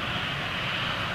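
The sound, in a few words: Air Transat Airbus A330 jet with Trent 700 engines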